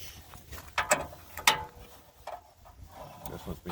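Ratchet wrench tightening bolts on a NICECNC luggage plate being fitted to a second-generation Kawasaki KLR650, heard as a few close, scattered bursts of clicking and rattling metal, with faint handling noise between them.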